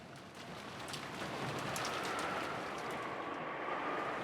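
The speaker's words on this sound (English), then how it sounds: "at the sound of wind and rain slowly filled the room once again" Steady wind and rain sound effect from the visual novel game Umineko When They Cry, a continuous wash of rainfall with a faint whistling gust, swelling slightly early on and then holding evenly, with no voices.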